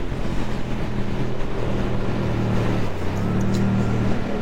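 A Suzuki GSX-8S A2 motorcycle drones steadily while being ridden, its engine pitch shifting as the revs change under constant wind rush.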